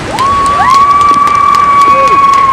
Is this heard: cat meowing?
no